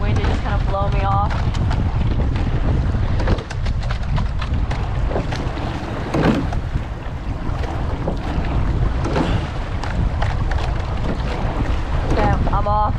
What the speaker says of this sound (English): The wind just kind of blow me off.